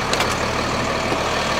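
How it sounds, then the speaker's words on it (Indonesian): A Hino RM280 bus engine runs at a steady idle, a loud, close, continuous diesel rumble with no speech over it. "Nah, ini dia mesin Hino RM280."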